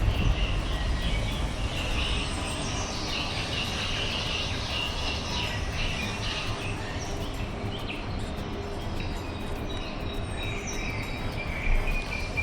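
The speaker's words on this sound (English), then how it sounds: "Hear the bird sounds?" Recorded birdsong plays nonstop from a speaker in a Viking Orion cruise ship bathroom: faint high chirps repeat over a steady, even background hum.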